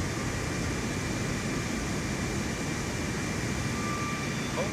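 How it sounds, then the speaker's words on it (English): An airplane takes off in a flight simulator game, its engine a loud, constant roar with a broad rushing hiss that holds steady and unbroken throughout. "Very smooth takeoff."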